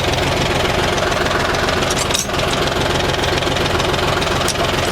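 DTZ 354U tractor engine running, a loud, steady, close diesel rumble with a fine knocking pulse and constant vibration throughout, with no pause.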